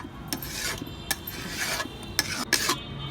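Chicken curry is stirred in a pot, with rough scraping and rasping strokes of a spoon against the metal. Several sharper scrapes stand out over a low simmer, and no one talks.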